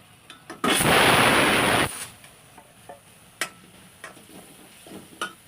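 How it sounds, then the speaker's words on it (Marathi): Ground turmeric and red chili powder tipped into hot oil for dal palak, a loud sudden sizzle lasting just over a second, then faint frying crackle with a few soft clinks of a spoon against the pan. "मसाले थोडा तेलामध्ये परतून घ्यायचे"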